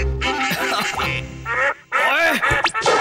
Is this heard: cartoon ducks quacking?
yes